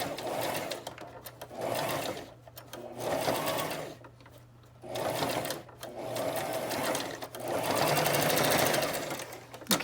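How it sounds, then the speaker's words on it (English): A sewing machine bastes a fabric face mask with a 1/4 inch seam, running in several steady bursts separated by short pauses, close and fairly loud. "Flip it over, baste it up."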